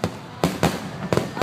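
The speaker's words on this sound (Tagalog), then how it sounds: "Magkano ba pag ganyan ang fireworks sa Pinas?" Fireworks burst at Toda koen in a summer display, several loud booming explosions in quick succession, each followed by a crackling rumble.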